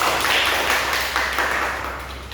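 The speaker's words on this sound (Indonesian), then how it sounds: "Kita berikan tepuk tangan untuk kelompok dua." Primary-school pupils in a classroom clap together for a group that has just presented, a steady wash of many small hands that gradually fades, with no speech over it.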